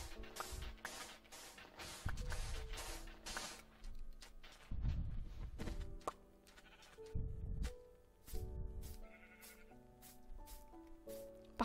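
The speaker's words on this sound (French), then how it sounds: "Par contre, il y en a des moutons." Sheep bleat in a French-played farming video game, giving several wavering bleats at irregular intervals over soft game music, fairly quiet overall.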